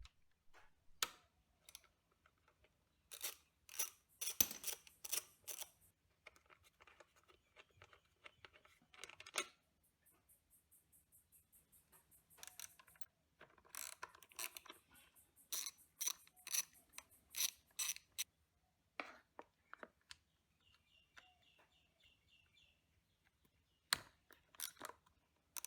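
Tools work on the 8mm side cover bolts of a Honda NC750X motorcycle, giving scattered sharp metallic clicks and ratcheting bursts close by with quiet gaps between them.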